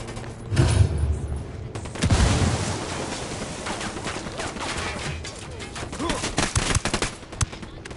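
A frag grenade blast and gunfire in Tom Clancy's Ghost Recon Wildlands: a heavy boom early on, then scattered sharp shots and crackling bursts, loud near the start and flaring again toward the end.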